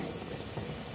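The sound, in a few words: frying undhiyu fritters (vada) in oil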